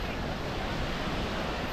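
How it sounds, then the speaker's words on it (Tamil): Sea waves washing in at Kovalam beach, a continuous, even rush of surf heard as broad steady noise with some wind on the microphone and no voices. "இதுதான் கோவளம் பீச்."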